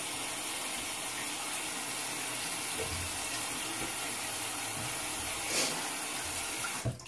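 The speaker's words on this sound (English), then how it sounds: "And now I'm just going to rinse it off." Tap water runs steadily from a faucet into a sink while a makeup brush is rinsed, a continuous close hiss and splash throughout with no talking.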